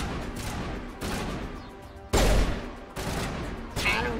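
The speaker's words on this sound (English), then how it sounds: "What are we shooting at?" Weapon fire in Mass Effect Legendary Edition comes in rolling bursts, with several sustained volleys separated by brief gaps and one louder, closer blast in the middle, all over a continuous combat din.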